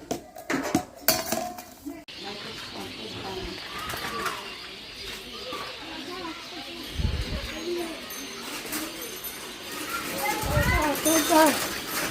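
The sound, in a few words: washing small dishes at the tubewell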